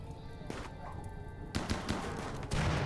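Gunfire in the video game Rimworld, a few faint sharp bursts of shots in quick succession over quiet game background.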